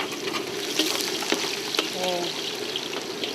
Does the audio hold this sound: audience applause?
no